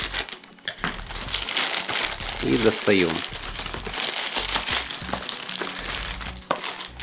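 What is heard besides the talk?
cutting open parcel packaging with a knife, crinkling wrapping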